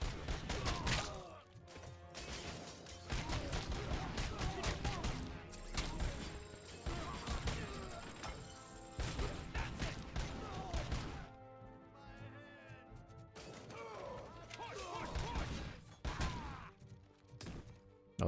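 Gunfire from the video game Robocop: Rogue City plays fairly quietly as repeated sharp shots and bursts, with impacts and crashes scattered through eighteen seconds.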